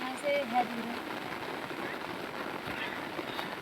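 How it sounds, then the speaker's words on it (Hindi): Steady rain falls in a dense forest in the Uttarakhand hills, a continuous even hiss of drops on leaves and ground at moderate level, with a couple of faint birdlike chirps early on. "यहाँ से सुबह से यहाँ पे बरसात हो रही है।"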